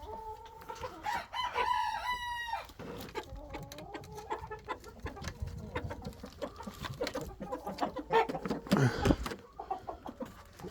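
Several roosters crow in a chicken coop after heavy hurricane rain, repeated cock-a-doodle calls overlapping near and farther off, mixed with hens clucking and faint rustling.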